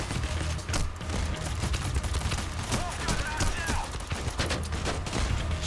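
Shotgun fire in the video game Payday: The Heist comes as a dense barrage of rapid, overlapping shots, with people talking over the gunfire.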